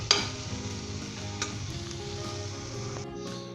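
Steady sizzling as white brinjal masala with coriander is stirred in a pan, close and continuous with a spoon scrape or two and no voices.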